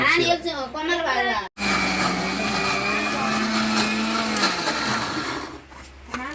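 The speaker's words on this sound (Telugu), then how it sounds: "ఈ విధంగా అన్ని ముక్కలు ముక్కలు కట్ చేసుకొని మొత్తం గ్రైండ్ చేసుకోవాలి" A kitchen grinder processes chopped pieces. After a brief stretch of talk, a loud, steady motor whir starts up close by and settles lower near the end.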